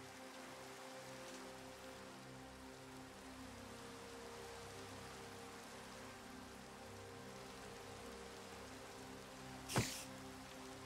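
Steady rain falling in Minecraft, a soft continuous hiss with faint low droning tones beneath, and a single brief sharp burst near the end.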